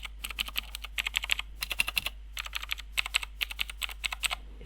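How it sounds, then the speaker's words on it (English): Rapid, clicky typing on a computer keyboard in quick bursts with short pauses between, close and crisp. "This is just an awesome keyboard."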